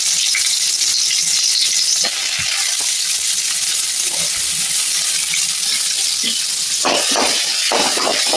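Small onions frying in hot oil with fennel and poppy seeds, a bright, steady sizzle close up, with a few clinks and scraping stirs and a burst of sharper crackling near the end.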